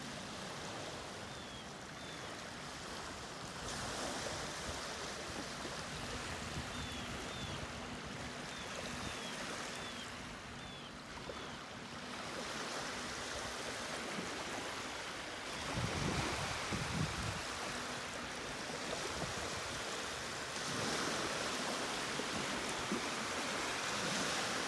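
Water rushing steadily at a small stream by a pond near a hidden beach at Port Hope, a continuous broadband wash with some wind noise, birds chirping faintly early on.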